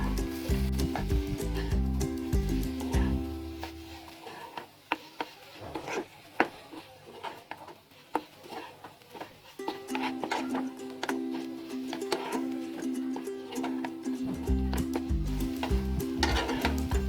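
Carrot halwa mixed with two spoons of powdered milk is stirred in a pan: rhythmic scraping and rubbing strokes over a low steady background hum, close and moderately quiet.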